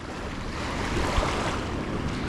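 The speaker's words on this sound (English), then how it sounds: "Oh, I wish that wind would lay down." Wind on a big river gusts across a fishing boat, buffeting the microphone with broad blustery noise and faint lapping water, no voices heard.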